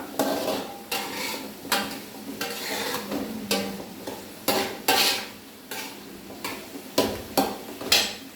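A spoon works through chicken curry with added salt in a pan, giving repeated scraping strokes and clinks in an uneven rhythm over a low sizzle, close and moderately loud.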